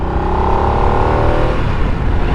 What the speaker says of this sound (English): my first couple of pulls of this engine feel smooth, but maybe a little anemic coming off of that 1250